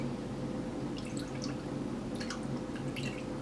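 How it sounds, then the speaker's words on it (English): Melted candle wax is poured into a new container, giving faint drips and small liquid trickles over a steady low background hum. "I'm literally just going to pour this straight into the"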